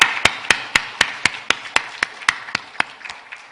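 Church congregation at a Christmas service clapping together in a steady, evenly spaced beat, about four claps per second, loud and crisp in a reverberant hall, with no talking over it.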